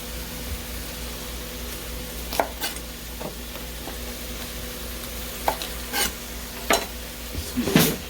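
Lumpia gravy with green onion being stirred in a pan, a soft steady sizzle under occasional sharp scrapes and clinks of a utensil against the pan, irregular and close, with no talk.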